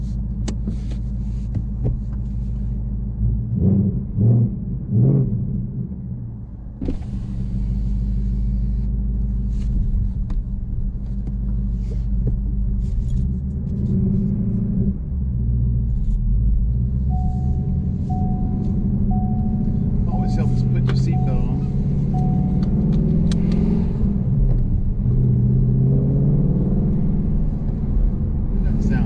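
Race red Ford Mustang Mach 1 with resonator delete and MBRP X-pipe driven wide open on a neighborhood road: a steady deep engine drone and rumble fills the cabin, with someone speaking briefly over it.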